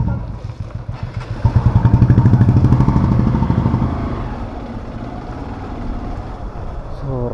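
Bike taxi motorcycle on a city ride in Hyderabad, the engine revving up loudly and close, then settling into a steady running drone with road noise and faint clatter.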